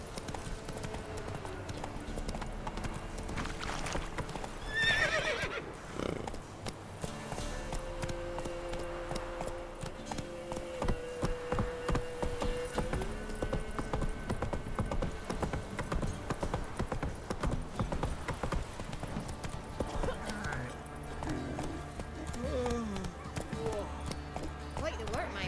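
A horse in The Witcher 3: Wild Hunt gallops with a steady clip-clop of hooves and gives a few whinnies, accompanied by game sound and voices throughout.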